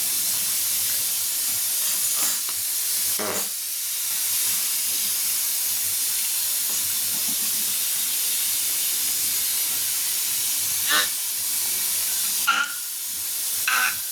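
Urad dal vadas fry in hot oil with a steady, even hiss, moderately close, with a few brief louder sizzles and crackles as the batter cooks; no talking.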